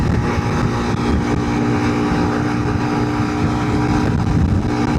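A big bore Honda CRF300L Rally motorcycle running at around 80 mph with a tailwind, its engine droning loud and steady under heavy wind rush, with no voices.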